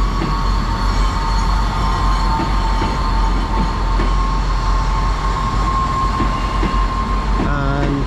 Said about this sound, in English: South Western Railway service to Basingstoke